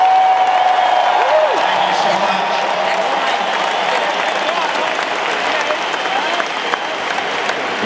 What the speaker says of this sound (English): let's have a round of applause for those kids in Toronto.